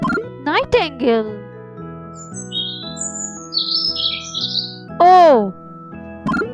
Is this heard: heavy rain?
no